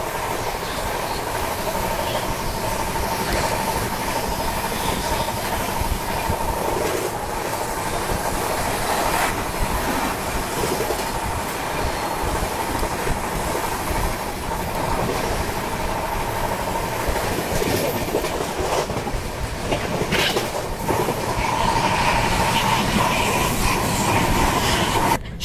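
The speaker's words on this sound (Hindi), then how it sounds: "गाड़ी अपनी फ्लैट 130 पे भाग रही है।" Steady rumble and rattle of a Rajdhani Express train running at 130 km/h, heard from inside, with continuous rhythmic wheel clatter and wind noise throughout, no talking.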